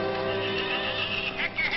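A horse neighs amid a busy frontier wagon-train scene, a long whinnying call with other voices and activity blended underneath, fairly close and steady throughout.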